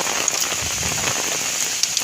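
Heavy rain pours down outdoors in a dense, steady patter close by, with scattered louder drops hitting the ground.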